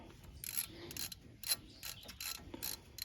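A ratchet clicks in several short bursts while loosening a front brake bolt on a 2020 Chevy Trax, quiet and close, alone without talk.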